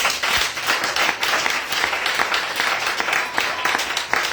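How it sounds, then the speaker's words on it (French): A church congregation applauds and cheers during a worship service, dense steady clapping with raised voices sustained throughout, close and loud. "Ouais, acclame-le encore."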